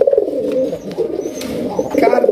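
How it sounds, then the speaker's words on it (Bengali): At a Bangladeshi pigeon farm holding fifty pairs, several pigeons coo in overlapping, throaty, rolling calls, close and continuous, with no speech. "50 পেয়ার কবুতরের ডাক থাকবে বাক বাকুম"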